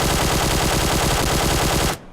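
Sustained rapid-fire burst from an assault rifle fitted with a light grip in PUBG Mobile, loud and continuous for about two seconds before cutting off abruptly, with no talking.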